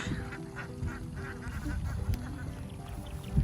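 Young ducks quacking together as a flock beside a creek, steady overlapping calls close by over low outdoor background noise.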